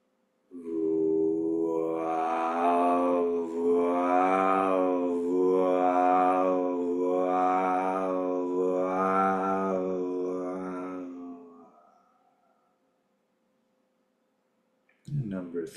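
A long, sustained low vocal tone with a rough, vibrating growl, held steadily for about ten seconds in a slow pulsing rhythm, then breaking off into quiet before a breath begins.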